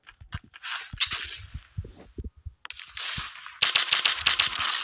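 Gunfire from the video game Fwr Assault, heard as quick clusters of sharp shots with brief gaps, then a denser, louder burst near the end, with no talk over it.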